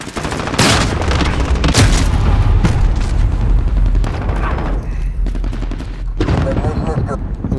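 Shotgun blasts and other gunfire in a Call of Duty: Modern Warfare team deathmatch, several loud sharp bursts crowding the first two seconds, then more scattered shots under a dense, noisy game mix.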